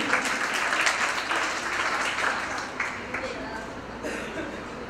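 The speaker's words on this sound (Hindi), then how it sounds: "रुचिका के लिए बस बहुत तालियां हो जाए।" An award-show audience at the Rajasthan Film Festival claps for an honoree, steady applause in a hall that fades slightly, with voices audible beneath it.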